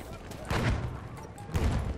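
Battlefield 1 gunfire sounds in two low, booming bursts about a second apart under voice chatter.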